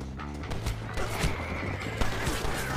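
Horse neighing in the Western video game Red Dead Redemption, a whinny with clip-clopping hooves over a steady bed of game music and ambience, fairly loud and continuous across the moment.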